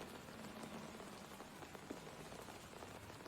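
Rain falls steadily in Batman: The Telltale Series, a soft even hiss of drops on hard surfaces. It is faint, constant and close, with no voices.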